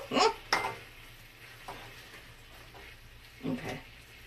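Spaghetti and bamboo shoots heat in a wok, with faint sizzling and a few soft scraping stirs and clinks, quiet and close.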